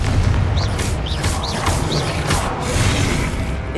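A Confringo spell explosion in the video game Hogwarts Legacy: a loud, dense burst of booming crashes and whooshes, with repeated impacts rolling through a few seconds of chaotic combat noise.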